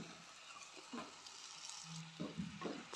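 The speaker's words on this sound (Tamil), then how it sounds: "சிக்கன் சேர்த்து நல்லா மிக்ஸ் பண்ணிக்கலாம்." Large chicken pieces are stirred into cooked masala in a pan for a Chettinad-style chicken gravy, giving faint, scattered scraping and sizzling bursts near the start and again toward the end, with no talk.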